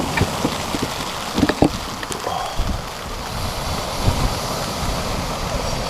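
Rain patters on a winter night beach at Aldeburgh, mixed with wind buffeting and soft surf, with a few sharper taps on gear nearby; moderately loud, steady, no talk.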